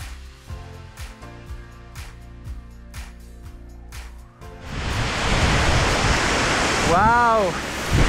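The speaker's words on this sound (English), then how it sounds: "here you see the waterfall," A roaring Alpine waterfall at Saas-Fee in the Swiss Alps surges up loud and steady as broadband rushing water, following a quieter stretch where people talk.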